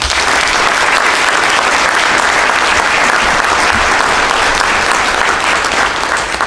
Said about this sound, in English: let's give them one more time a round of applause